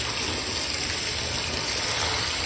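Shower water spraying steadily while a pet is washed, a continuous broadband hiss and gush with no breaks and no talk.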